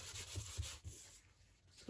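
An embossing buddy rubbed over card stock while making a Stampin' Up! Christmas card, giving a soft, continuous close-up scuffing and brushing with a few gentle strokes, quiet and alone.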